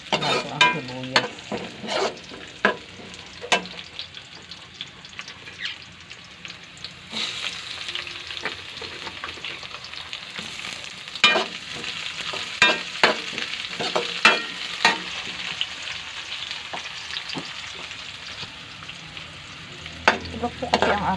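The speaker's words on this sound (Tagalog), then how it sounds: "bawang ko talaga ang inuunang igisa" Garlic sautéing in a pan as the first step of coconut-milk chicken adobo, with steady frying sizzle under frequent sharp scrapes and clinks of a utensil stirring against the pan, close and fairly loud, no talking.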